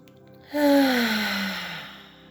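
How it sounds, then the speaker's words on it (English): A single deep breath let out as a long, audible sigh starts suddenly and slowly fades away, close and clear in a quiet room. "fully breathe into your belly and let it out"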